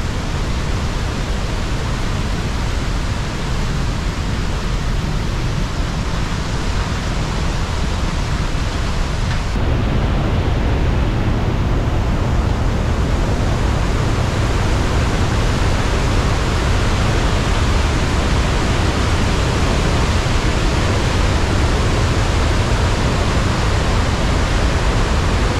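Continuous thundering roar of the Iguazu Falls waterfall on the Argentine side, loud and close, growing fuller and heavier partway through, with no talking.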